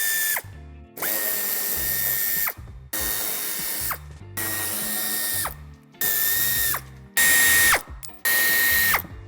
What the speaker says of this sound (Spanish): A ambos lados del pase de ruedas aflojaremos un tornillo que nos sujeta justamente la esquina